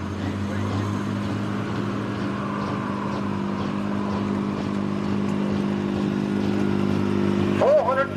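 An Oliver pulling tractor with sheet-metal bodywork and a 5.9 Cummins six-cylinder diesel roars loudly and steadily at a truck and tractor pull, its tone climbing slightly toward the end.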